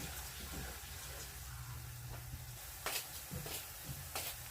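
Garlic and onion sauté in a hot pan with a steady close sizzle, broken by a few sharper splattering bursts and stirring scrapes.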